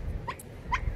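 Dog out on a boat trip to a Miami sandbar whimpering twice, short high nasal whines close by over faint background rumble.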